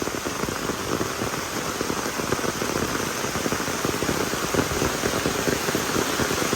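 Steady, dense rain falls around a campsite on Mount Sumbing, a continuous hiss of drops pattering on surfaces with no voices, loud and even throughout.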